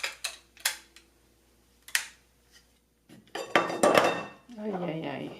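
Plastic and metal NutriChopper blade parts clack together several times as they are fitted into the chopper, sharp separate knocks followed by a louder, busier stretch of rattling and clattering near the end.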